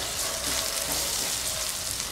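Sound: Kashmiri chilli powder and Malvani masala being mixed in a pan

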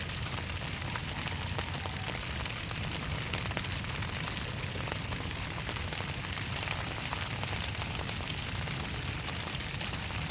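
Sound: heavy rain

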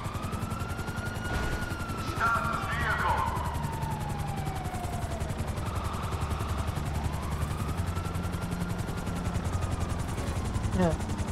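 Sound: helicopter flying in GTA V video game

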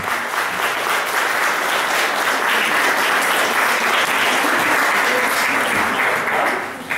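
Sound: audience applauding the contest winners

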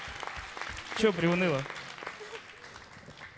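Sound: studio audience applause

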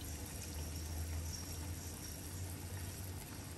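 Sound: pouring tamarind water into fish head curry

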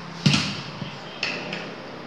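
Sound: volleyball spike, played sound effect

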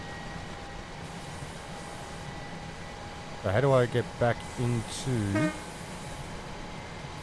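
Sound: train running in video game Train Sim World 4

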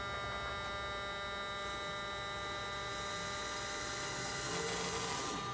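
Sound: electric motor of VW Thing EV conversion spinning under throttle

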